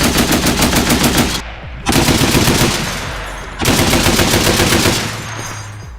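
A Browning M2 .50-calibre heavy machine gun on a French VAB armoured vehicle used by the Ukrainian army fires three loud, sustained bursts of rapid rhythmic shots, broken by two short pauses.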